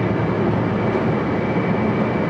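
A JR West 223 series 1000 electric train on the Special Rapid run between Moriyama and Ishiyama rumbles steadily at close range, a dense continuous roar of wheels and motors with no breaks.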